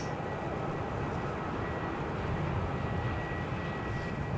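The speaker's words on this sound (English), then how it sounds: "Jetstar 64 from Ho Chi Minh. Ah, 787-8." A Jetstar Boeing 787-8 arriving at Melbourne Airport on runway 16 from Ho Chi Minh, a steady, moderately loud jet rumble at some distance, even and continuous.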